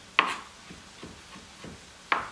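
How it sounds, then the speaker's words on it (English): Knife chopping canned black olives from a 6-ounce can on a cutting board, two sharp board knocks about two seconds apart with soft squishy cuts between, close and clear. "I'm chopping a can of black olives"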